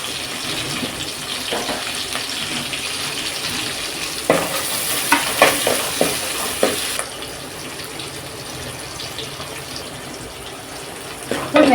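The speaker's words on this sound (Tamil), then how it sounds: "1 ஸ்பூன் வெந்தயம், 1 ஸ்பூன் கடுகு இது போட்டு நம்ம தாளிச்சிக்கலாம்." Fenugreek and mustard seeds are tempered in hot oil for a Kovai-style dried-fish curry, a constant frying sizzle with a run of sharp spoon taps and stirring clatters partway through.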